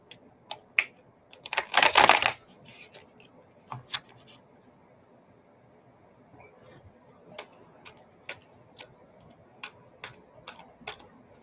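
Tarot reading cards are shuffled by hand during a live reading, a brief flurry of riffling near the start followed by sparse, light clicks and taps of cards being handled.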